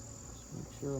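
Honeybees in an opened mating nuc hive buzz faintly and steadily, with the droning swelling slightly louder at the end.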